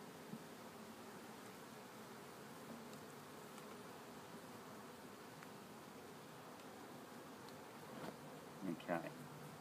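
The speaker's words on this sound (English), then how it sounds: "you see how the bees are just coming out a bit?" Honeybees hum at an opened beehive during requeening outdoors in mild weather, a steady soft buzz throughout with a few louder passes near the end.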